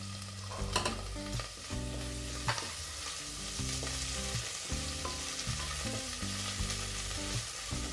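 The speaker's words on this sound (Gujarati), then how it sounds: "એમાં બે મિનિટ સાતડી લેવાનું છે ઘીમાં બધું પછી લીલું લસણ" Grains and vegetables sauté in ghee for a seven-grain Makar Sankranti khichdo, giving a steady, close sizzle with soft stirring scrapes and occasional clinks over eight seconds, with no talking.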